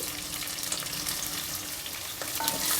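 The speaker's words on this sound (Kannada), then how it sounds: "ಈಗ ಈರುಳ್ಳಿ ಹಾಕ್ತಾಯಿದ್ದೀನಿ ಸ್ವಲ್ಪ ಹಿಂಗು" Onion and asafoetida sizzle and fry in a hot pan with browned chana dal, a steady crackling hiss that holds close and loud throughout with no talking.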